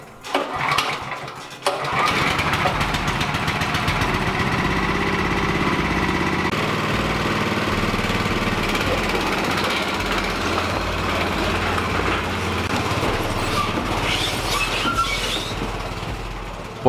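A shed-built custom amphibious tank vehicle's engine cranks, catches and then runs at a steady, loud rumbling idle with a rough mechanical drone close by.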